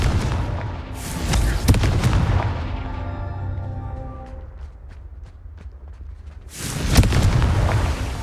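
The Confringo fire spell in the video game Hogwarts Legacy goes off in booming blasts, one around the start and another near the end, each with a rumbling tail and crackling debris.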